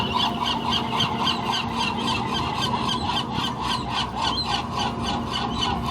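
Geese honk repeatedly in a rhythmic series of calls, fairly loud and close, over a constant background noise aboard the Coronado ferry crossing the bay.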